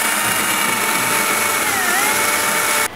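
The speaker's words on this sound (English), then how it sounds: "So we're gonna create a circular pattern using the drill bit." A power drill bores a circular pattern of holes into a Halloween pumpkin, a loud continuous high whir that holds steady for about three seconds before cutting off abruptly.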